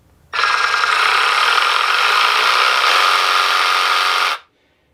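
A Milwaukee M12 cordless jig saw, model 2445-20 with a variable speed trigger, runs for about four seconds as a loud, steady, close buzzing whine that starts abruptly and then winds down.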